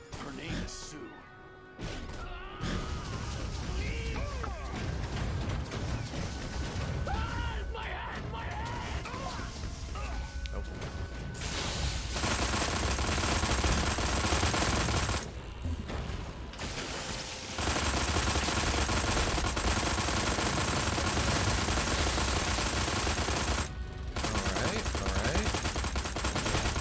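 Rifle gunfire and crashing destruction in the game Destroy All Humans, bursts of rapid shots and smashes layered over busy game noise and a talking voice, with brief gaps of quieter moments.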